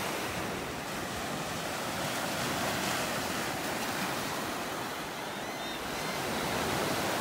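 Surf on a sunny beach in North Naples, Florida, forms a continuous broadband wash of breaking waves, with some wind against the microphone. It swells gently in places and no one speaks.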